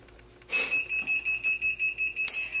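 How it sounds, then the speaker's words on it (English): A Vevor heat press beeping when its cycle finishes, a rapid series of about a dozen shrill electronic beeps in even rhythm, close and clear with no talking. "there's the beep"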